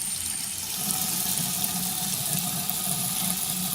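Steady stream of water running from a Delta Ara bathroom faucet into a sink with a black drain, a continuous close rushing hiss with no talking.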